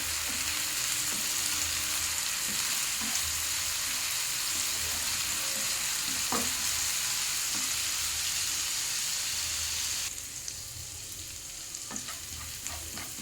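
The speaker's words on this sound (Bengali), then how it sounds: "আদাটাকে ভালো করে ভেজে নিতে হবে" Ginger and green chili paste fries in hot oil in a pan, a continuous close sizzle with occasional stirring clinks, softening slightly near the end.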